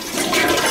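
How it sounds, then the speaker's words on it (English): A first-floor toilet flushes with a loud, close, steady rush of water that fills the whole short moment. "I flushed it like 4 times."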